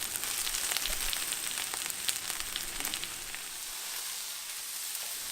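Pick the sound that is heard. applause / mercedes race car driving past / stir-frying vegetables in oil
stir-frying vegetables in oil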